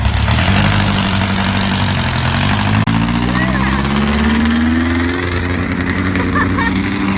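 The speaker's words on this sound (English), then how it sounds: "Dang, they're revving it up, ain't they?" An engine runs loudly and close in downtown Hillsboro, its pitch climbing steadily as it revs up, with a person briefly speaking over the roar.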